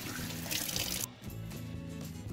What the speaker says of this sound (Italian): le andiamo a lavare di nuovo sotto abbondante acqua corrente fredda